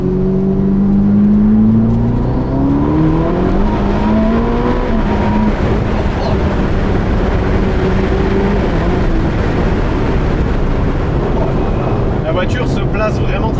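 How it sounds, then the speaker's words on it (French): A 1000-horsepower Ferrari SF90 Spider with a 4-litre twin-turbo V8 accelerates hard on the road, its engine note climbing steadily in pitch, then settling into a loud, dense roar of engine and road noise that lasts throughout. "Après t'as un V8 biturbo de 4 litres, forcément oui, si tu tapes dedans"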